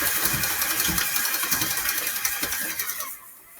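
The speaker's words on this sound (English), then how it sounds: "So what this is called creaming. We are getting the butter and the sugar to mix all together." An electric mixer whirs steadily as it creams butter and sugar for chocolate chip cookie dough, a close, buzzing motor drone that cuts off near the end.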